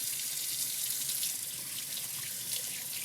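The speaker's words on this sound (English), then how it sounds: "I'm gonna wash my hands real quick and then I will come back and talk with you guys. Let me just quick rinse." A water tap runs steadily into a sink as buttery hands are rinsed, a continuous close hissing splash with even loudness throughout and no speech.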